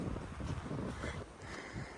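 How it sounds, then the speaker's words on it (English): Wind on a cold day along a nature trail at a wildlife refuge buffets the microphone: a continuous close rumbling roar with gusty swells, dipping slightly near the end, and no talking. "It is windy, so that makes it feel like colder than"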